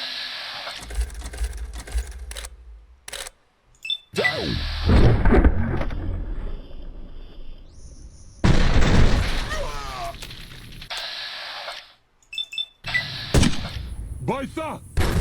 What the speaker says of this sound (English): What the heck are you guys shooting at?